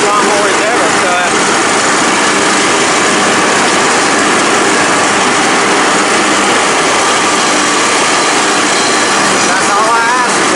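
A Troy Bilt Pony riding lawnmower with a 42-inch cut runs steadily while mowing, a loud continuous engine drone with broadband noise lasting throughout, no pauses.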